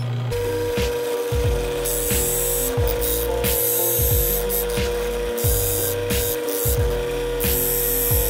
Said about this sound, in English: So now I'm gonna try and sharpen up a couple of drill bits.